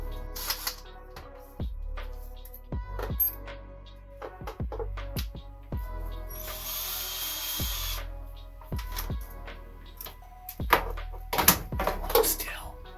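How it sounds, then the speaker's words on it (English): A power drill whirs in short bursts while a toy is repaired, amid knocks, clunks and handling noises, with people talking at moments. "I happen to have a drill."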